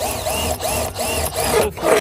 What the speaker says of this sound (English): We have to drill holes.